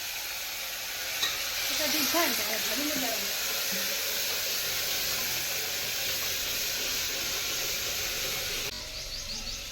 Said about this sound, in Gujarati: છેટેથી વઘાર થાય છે.